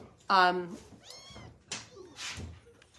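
A kitten at a cat rescue meows once, loud and close, with a harmonic cry, while a person talks over and around it.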